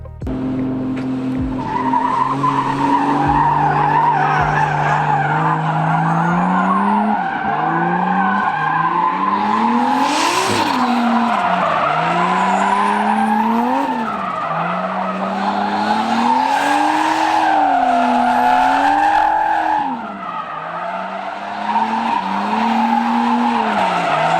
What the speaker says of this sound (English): I want to get back on throttle and then start drifting again and come back around this corner